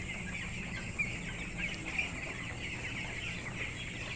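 Flock of 11-day-old broiler chickens in a poultry shed, giving soft, steady clucking and chirping as a constant faint murmur with no talking.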